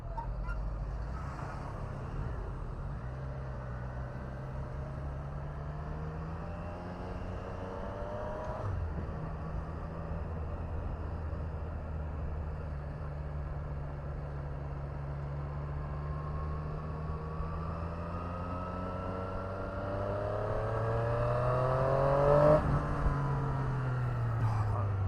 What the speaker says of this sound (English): That is a nice sounding motor, that is.